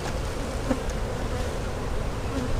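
Honey bees buzz in a dense, steady, close drone at a hive affected by European foul brood, the workers loading up on nectar.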